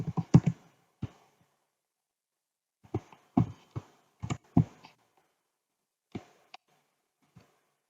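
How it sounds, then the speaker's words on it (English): Scattered keystrokes clack on a computer keyboard in short bursts with pauses between them, close and crisp, with no talking. "Then I start typing"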